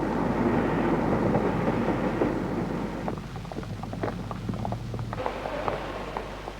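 Moving train on a busy London-area railway in 1969, offloading concrete cable troughing beside the track; a steady loud rumble and rattle fills the whole stretch, with clattering knocks and bumps rising in the latter part.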